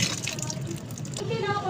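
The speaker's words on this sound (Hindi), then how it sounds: "थोड़ा थोड़ा सा बाथू लेकर और फुल भरकर पानी का देख" Bathua greens washed in a pot filled with water, with light splashing, sloshing and dripping close by, soft and irregular, under faint background noise.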